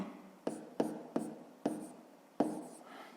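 A pen writes on paper in a quiet room, producing six short, distinct scratching strokes at an irregular pace, close and faint.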